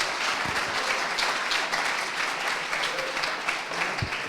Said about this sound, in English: Let's have a big round of applause for our next speaker, Patrick